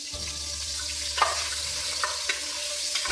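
Minced garlic fries in olive oil in a pot, a close, soft sizzle with a few light stirring scrapes and no talk.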